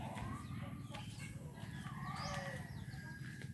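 Chickens at an aunt's provincial house in the Philippines, beside a well, give faint clucks and short calls that rise over a steady low rumble of outdoor background noise.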